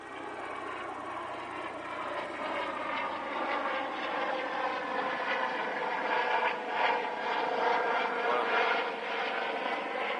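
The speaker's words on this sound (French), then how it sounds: "j'ai un hélicoptère qui passe forcément quand je fais une vidéo" A helicopter drones steadily overhead for the whole stretch, a broad engine and rotor roar that swells slightly and stays loud throughout.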